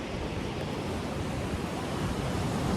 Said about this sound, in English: If you can hear this ocean, can you?